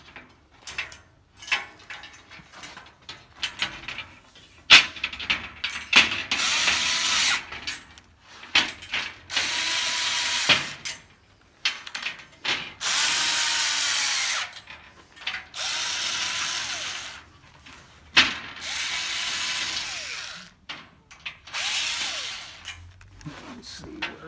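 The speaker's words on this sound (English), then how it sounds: "you can just stick your wrench in there, tighten her up" A wrench ratcheting in bursts as bolts are tightened all the way around during assembly of a Walkabout workbench, close and fairly loud, broken by pauses and short knocks of handling.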